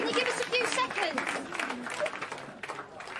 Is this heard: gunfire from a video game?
no